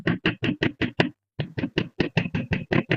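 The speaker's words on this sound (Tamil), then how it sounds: "இந்த 2வது லேயர்ல இருக்கக்கூடிய மேல இருக்கக்கூடிய பிளக்ஸை தட்டுவோம்." A hammer or chipping tool taps slag off the second layer of a weld bead, delivering a quick regular run of about six sharp knocks, a brief pause, then about nine more, close and crisp with no talk.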